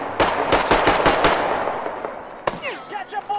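Rapid automatic gunfire from the video game Metro Exodus bursts out loud and close in a quick rattling string, then stops. A single sharp shot follows, and brief vocal sounds trail off at the end.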